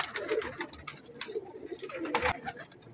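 Pigeons coo steadily throughout a crowded breeder's loft of roughly 200 to 250 birds, with overlapping soft, throaty calls close by and no talking.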